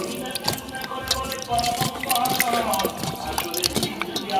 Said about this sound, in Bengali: ধুয়ে নেই, মাছটা ধুয়ে নেই।